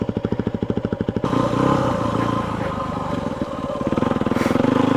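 A Yamaha WR250F dirt bike idles with a rapid, even four-stroke thump after a hot start, then revs up and pulls away, the engine loud and close with rising throttle in the high desert.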